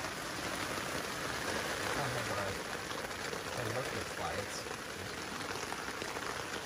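Hard rain pours steadily during a backpacking hike in Montana, a dense hiss of drops on surfaces throughout, with people talking softly underneath at times.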